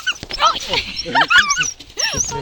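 A small stray dog at a garbage dump whimpers and yips in high, squeaky bursts, close by, mixed with people talking.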